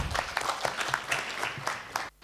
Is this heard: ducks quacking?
no